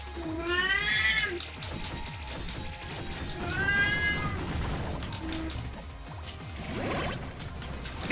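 A cat meows repeatedly, drawn-out rising and falling calls at close range, in three bursts over a busy background of clatter and steady noise.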